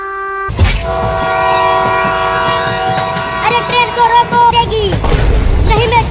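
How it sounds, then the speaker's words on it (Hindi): A train approaches with a long, loud, sustained horn blast, followed by the rumble and rhythmic clatter of rail cars passing close by, with several shorter high squeals near the end. "देखो एक और ट्रेन आ रही है।"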